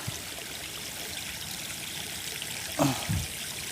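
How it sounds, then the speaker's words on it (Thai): Water in a small stream runs beside a fishing spot, a steady, soft trickling flow with a brief louder splash or gurgle near the end. "อันนี้มันเป็นน้ำไหลพี่น้อง"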